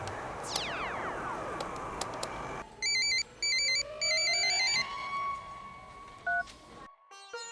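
A telephone rings in a small phone shop: electronic swooping tones give way to several repeated ringtone bursts in quick succession, followed by a brief single beep, heard clearly with no talking.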